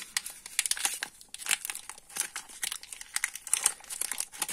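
Ülker dark chocolate wafer wrapper being torn open, with close, crisp plastic crinkling and crackling in quick irregular bursts throughout, no voices.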